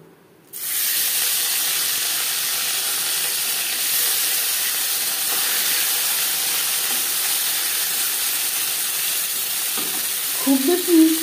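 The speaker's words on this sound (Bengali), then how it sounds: "চারবারে অল্প অল্প করে মাছ আমি ভেজে নিয়েছি" Small mourola fish fry in hot oil in a pan, giving a steady, loud, close sizzle that holds evenly for about ten seconds, with a few brief clatters near the end.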